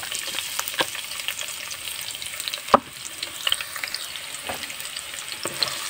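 Chopped onions fry in hot oil with whole cumin seeds for a koi fish curry, making a continuous close sizzle broken by a few sharp spatula knocks and stirs.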